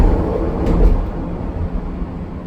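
A Chicago Transit Authority train pulling away from the airport gives a loud, steady, close rumble of wheels and carriage, with no voices.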